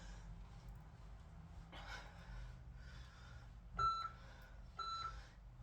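A workout interval timer gives two short electronic beeps near the end, over quiet room tone with faint breathing and movement.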